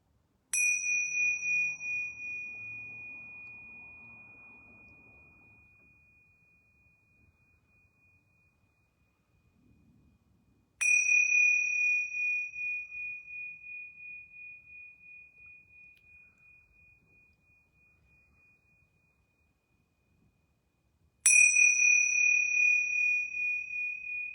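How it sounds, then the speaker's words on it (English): Yoga bells are struck three times, about ten seconds apart, in a quiet space. Each clear, bright ring sounds alone and fades slowly before the next strike. "I'm going to ring these yoga bells 3 times."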